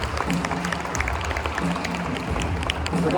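An audience at a comedy show claps continuously for a performer called back on stage, with dense, steady applause that runs the whole time at a fairly loud level and never fades.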